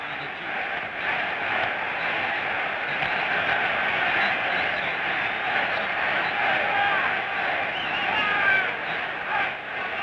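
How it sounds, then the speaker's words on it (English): At a heavyweight title boxing bout between Muhammad Ali and Henry Cooper, a large arena crowd cheers and chants Cooper's name in a steady, loud roar that holds for several seconds without a break. "the crowd felt there was a need there for a cheer and started chanting, "Henry, Henry.""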